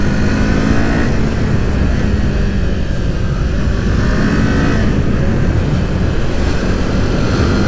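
A Kawasaki Z motorcycle rides along a winding mountain road, its engine droning loudly and continuously with strong rushing wind noise, the pitch rising and easing slightly as it accelerates.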